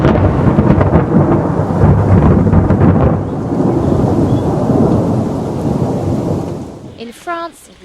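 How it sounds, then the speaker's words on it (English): Loud rolling thunder in a heavy storm with rain, a long sustained rumble that fades out over several seconds, followed by a brief burst of other sound at the end. "Other areas were also hit by lightning."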